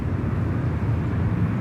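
A plane takes off at Sydney Airport, a broad, steady engine roar heard from a boat ramp spotter's spot, loud and unbroken for a short stretch with no talking.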